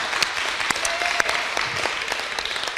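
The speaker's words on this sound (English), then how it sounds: "So a round of applause for our proposed candidates, for Luke, for Remington Spa and for George." Applause for proposed candidates at a student union question time event, a steady patter of clapping from an indoor audience lasting the whole stretch with a few sharper individual claps standing out.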